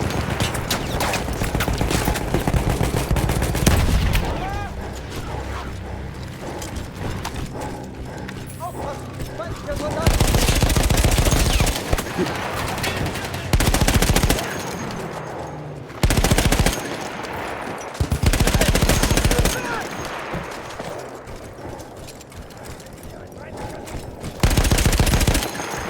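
Machine gun fire in Battlefield 1, sustained loud bursts with pauses from a mounted gun, heavy and close, mixed with battlefield noise and occasional speech.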